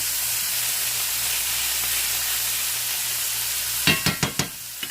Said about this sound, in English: just throw the onions in here in just a minute